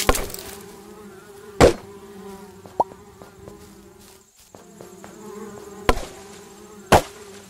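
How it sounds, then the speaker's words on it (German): Bees buzzing in the video game Adventure Craft, a steady droning hum throughout with several sharp clicks and thumps from gameplay cutting in. "Bienen scheinen eigentlich friedlich zu sein, außer man greift sie halt an"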